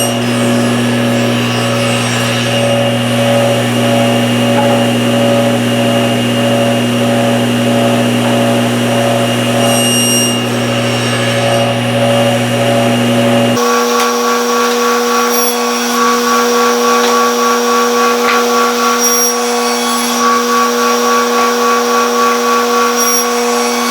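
Power tool cutting a quarter-inch-deep groove in a wooden test board, a loud sustained motor whine with grinding, steady for the whole stretch, shifting to a higher, thinner tone about halfway through, no talking.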